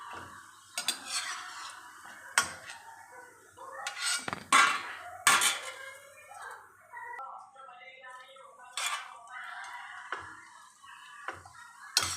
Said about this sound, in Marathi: चला तुम्हाला आता मी पापड तळून दाखवते तेल गरम व्हायला ठेवलं आहे